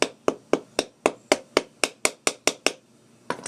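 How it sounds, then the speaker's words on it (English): A hammer strikes metal in a steady series of about eleven sharp, close taps, driving a shock bushing into place on a Kawasaki Brute Force 750, then a short pause and one final tap. "Just tap it in with a hammer."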